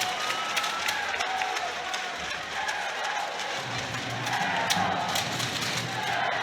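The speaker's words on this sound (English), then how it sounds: "Gets a rousing round of applause from the home fans." Home fans at an ice hockey arena applaud and cheer, a sustained roar of clapping and crowd noise with scattered sharp claps and skate scrapes, while a commentator talks over it.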